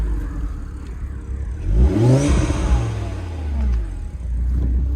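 An Audi RS3 with Milltek secondary decats revs hard nearby, the engine note sweeping up and dropping back in a loud rasping rise and fall over a steady idle rumble.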